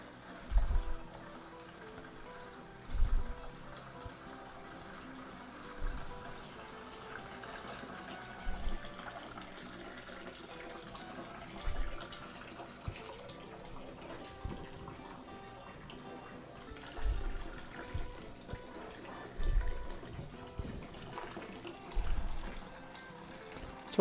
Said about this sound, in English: so we'll drain everything that we can get.